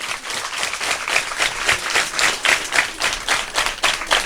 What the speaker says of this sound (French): la présidente Madame Cissé, que vous allez applaudir très fort